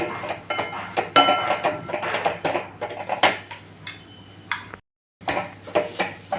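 Carrot and moong dal mixture stirred in a pan for carrot ashoka sweet, with a spoon giving irregular clinks, scrapes and knocks against the metal, close and clear, with a brief silent gap near the end.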